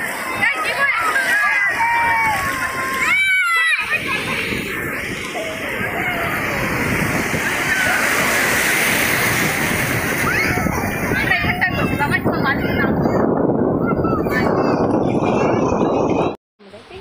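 Waves wash and splash continuously on the beach at Digha, with a steady roar of surf and indistinct voices of bathers nearby mixed in.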